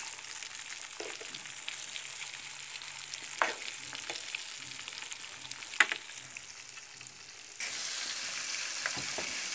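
Tilapia fish frying in hot oil in a home kitchen, a steady close sizzle and crackle throughout with occasional sharper pops and a brief dip before the frying noise returns at full strength.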